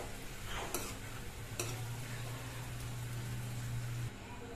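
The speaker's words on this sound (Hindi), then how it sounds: "मैक्रोनी को अच्छे से मिक्स कर दिया है टमाटर प्याज में।" Cooked macaroni being stirred with tomato and onion in a pan produces a few light scraping knocks over a steady low hum and faint sizzle, without talk.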